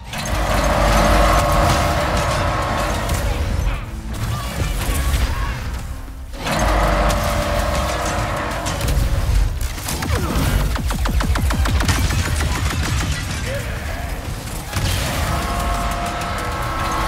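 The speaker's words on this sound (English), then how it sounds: "Keep firing, Ratchet." Weapons fire and explosions roar through a battle in the Ratchet & Clank: Rift Apart video game, a dense, loud, sustained barrage with rapid bursts and brief lulls.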